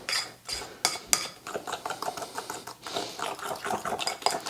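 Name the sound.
stirring maple butter tart mixture in a bowl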